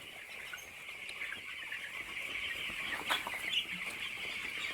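Poultry in a shed, heard as a steady dense chorus of bird calls in a continuous mid-high wash, with a couple of slightly louder calls standing out near the end; no talking.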